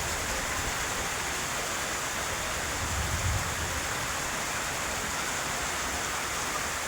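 The year's first monsoon rain pours down in a dense, steady hiss, loud and close and unbroken throughout, with a brief low swell of rumble midway.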